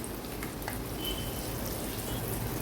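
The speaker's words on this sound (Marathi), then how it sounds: "मीडियम फ्लेमवर व्यवस्थित फ्राय करून घ्यायचे आहेत" Rava-coated vegetable slices fry in a pan over a medium flame, giving a soft, steady sizzle with light crackles throughout and no talking.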